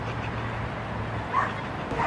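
Small dogs yip and bark briefly a couple of times against a steady indoor background hum, fairly faint and short.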